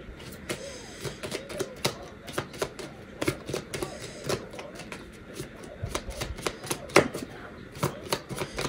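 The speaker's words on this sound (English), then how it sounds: "Let me shuffle again." A tarot card deck is shuffled by hand, producing close, irregular bursts of crisp riffling and slapping card sounds repeated over several seconds.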